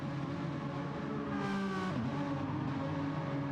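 Race car engine in the Gran Turismo 7 video game, revving hard in third gear then shifting into fourth, a loud continuous whine with a rising pitch that drops sharply at the gear change.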